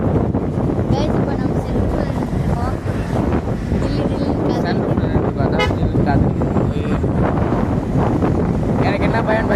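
Strong wind buffets the microphone during a night ride through the Yercaud hills, a loud continuous roaring rush that gusts throughout while people talk over it.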